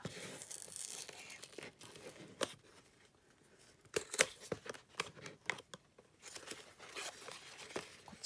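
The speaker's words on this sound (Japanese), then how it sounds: "こっちから開けた方がね、紙くちゃくちゃにならずに出てくるので、こちらの方から開けますね" A paper package of Seria shop goods is opened by hand at close range, with quiet irregular tearing, crinkling and rustling, bursts of sharper rips and crackles in the second half, faint and intimate.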